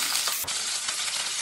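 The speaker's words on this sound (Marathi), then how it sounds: "कढई मध्ये ना एक चमचा तूप घालते. हे हिरवी मिरचीचे तुकडे केले हे घालू." Green chilli pieces sizzle in ghee in a wok, a steady close frying hiss with a brief stir or clink partway through, no voices.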